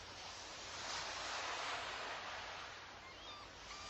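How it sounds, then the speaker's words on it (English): Waves wash steadily onto a beach as a soft, continuous broadband surf with gentle swells in loudness, quiet and distant, with no voices. "And those waves on the beach can comfort you."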